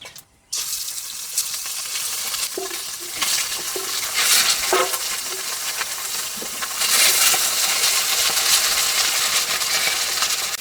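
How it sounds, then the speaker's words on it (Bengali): A ground paste of ginger, cumin and dried chili hitting hot oil with bay leaf and five-spice seeds, bursting into a loud, rushing sizzle that stays steady and swells louder near the end, with occasional utensil clinks. "আদা জিরে ও শুকনো লঙ্কা একসঙ্গে বেটে নিয়েছি এখন এই বাটা মশলাটা দিয়ে দেবো"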